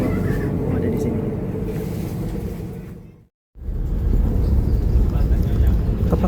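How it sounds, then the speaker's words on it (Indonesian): The Cikuray train departs Leles station bound for Jakarta Pasar Senen, a heavy, continuous low rumble that cuts out briefly midway, then returns stronger, with muffled voices mixed in. "kereta Cikura diberangkatkan dari stasiun Leles menuju ke Jakarta Pasar Senen"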